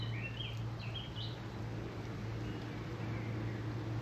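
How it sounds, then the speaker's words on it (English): Wild birds chirp and whistle faintly in short rising calls out in open countryside along the Fosse Way near the old Frome Road, set against a steady low engine-like hum and broad outdoor noise. "I just thought I'd let you know what the birds are"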